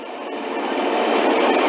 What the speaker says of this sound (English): So while the engine is warming up and the air conditioning is pumping out